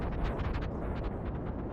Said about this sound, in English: Oh, explosions from those rockets colliding with each other.